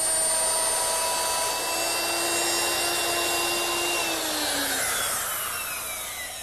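Router fitted with a 1/4 inch round nose bit plowing recesses in wood for a drop leaf table, a loud, steady high-pitched whine with its tone sliding down slightly near the end.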